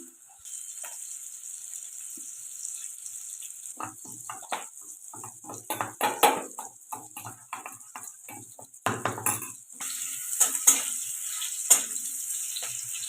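Capsicum frying in a pan with a soft sizzle, with frequent clatter and scraping of a utensil against the pan, loudest in bursts near the end, no talking.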